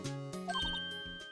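A telephone rings in the Phoenix Wright: Ace Attorney video game, a short series of bright electronic chiming tones over a sustained musical backdrop, no voices.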